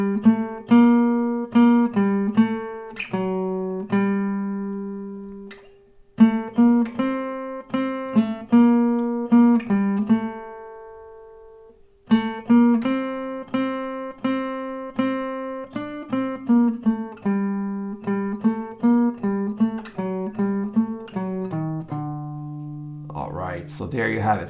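A plucked guitar picks out a slow melody, one clear note after another with ringing decay, pausing briefly between phrases, close and alone.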